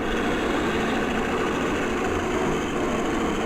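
Warbird aircraft engines, including P-51s, running as the planes taxi in at an airfield on the Fourth of July, a continuous, even rumble of idling engines with no speech.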